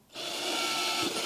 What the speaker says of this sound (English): Now I'm drilling it on the outside, try to keep it a little neater.